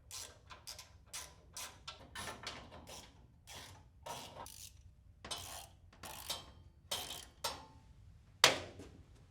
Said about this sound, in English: Place a washer and lock nut onto each bolt from underneath and tighten them securely.